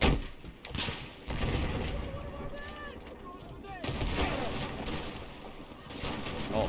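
An RPG is launched at a sniper in the video game Battlefield 4, with loud blasts and gunfire-like bursts under a dense, continuous wash of battle noise.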